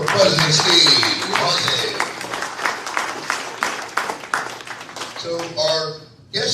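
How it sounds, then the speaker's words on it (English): Applause at a hall of fame induction ceremony, clapping rising early and thinning into scattered claps while a voice speaks over the crowd noise toward the end. "How about a round of applause for President Steve?"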